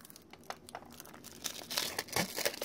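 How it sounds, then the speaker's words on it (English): Plastic wrap crinkles and tears as it is pulled off a fidget spinner box, a series of close, dry crackling rips that grow busier and louder toward the end. "I said I should be able to get the plastic wrap off"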